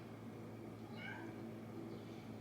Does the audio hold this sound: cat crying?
yes